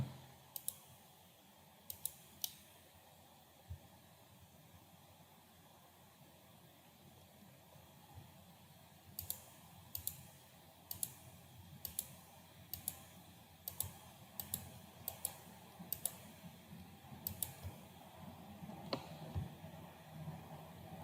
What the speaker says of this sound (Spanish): Hay que ser cuidadosos de no dar doble clic.